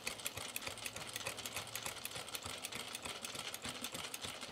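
A sewing machine with a buttonhole attachment runs zigzag stitches on jeans, a quiet steady rapid mechanical chatter going without a break, no voices.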